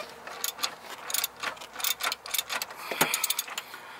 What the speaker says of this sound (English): my ratchet is on the bolt right on the back